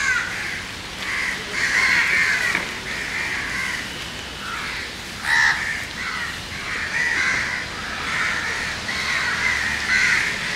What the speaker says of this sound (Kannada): ಇಲ್ಲಿ ಮಾತ್ರ ಸುಮಾರು ಕಾಗೆಗಳಿವೆ, ತುಂಬ ಅಂದರೆ ತುಂಬಾ ಕಾಗೆಗಳಿವೆ